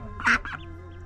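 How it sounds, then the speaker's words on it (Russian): A duck with a second brood on a farmyard during summer haymaking gives a short, close double quack that stands out over a quiet background hum. "Уточка вот второй выводок вывела."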